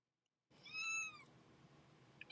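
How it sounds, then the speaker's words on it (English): A single clear cat meow rises out of near silence, tonal and close, followed by faint room noise and a small click. "The cat disagrees."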